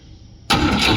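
A Volvo B20B engine cranks over after a quiet pause, the starter churning loudly and steadily for the rest of the moment.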